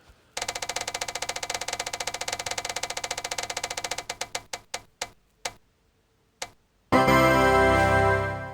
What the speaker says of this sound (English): we're gonna roll this wheel again and see what we get